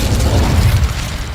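Incendio fire spell cast in Hogwarts Legacy, a loud, deep whooshing burst of flame with a heavy low boom that fills the whole moment.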